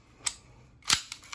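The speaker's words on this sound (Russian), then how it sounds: "Для этого извлекаем магазин" Magazine pulled from a SIG P226 TK-PRO airsoft pistol: two sharp, close metallic clicks, a lighter one followed by a louder snap with a brief rattle after, with no voices.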